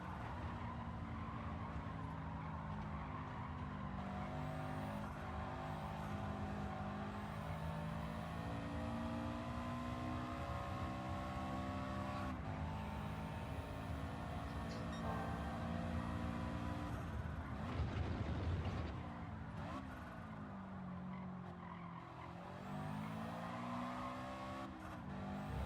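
A Ferrari race car's engine in Gran Turismo 7 drones steadily through a long run, its pitch sliding up and down with shifts and corners, with a short scrubbing burst near the end. It sounds fairly faint and distant.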